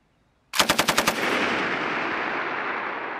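A US Army M249 machine gun firing on a live-fire range: a sudden loud burst of about six rapid shots, followed by a long rolling echo that slowly fades.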